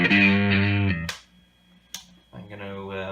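A Stratocaster electric guitar plays through a Compulsion overdrive pedal with the gain turned up. Two short, gritty distorted phrases ring out close and loud, separated by a near-silent pause with a couple of sharp clicks.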